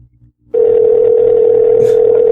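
A telephone ringback tone sounds steadily after a brief quiet start while a call is being placed, loud and continuous with faint background noise.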